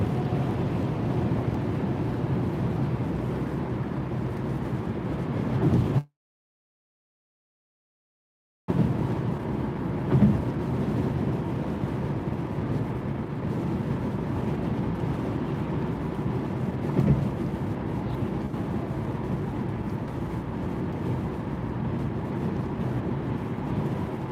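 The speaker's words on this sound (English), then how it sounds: "That wind almost wants to push me into the wall there." Strong wind during an ice storm, a steady low roar with a heavy rumble and gusty texture that continues throughout, broken once by a brief total dropout, no speech heard.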